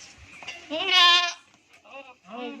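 A Rajanpuri male goat bleats nearby: one long, loud wavering call, then two shorter bleats after a brief pause.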